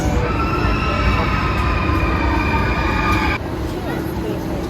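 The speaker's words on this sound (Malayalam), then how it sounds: "ട്രെയിനാണ്. ട്രെയിൻ" Miniature kiddie train ride rolling inside a shopping mall, a steady loud rumble with a faint tonal whine that cuts off near the end, set against busy indoor crowd noise and background voices.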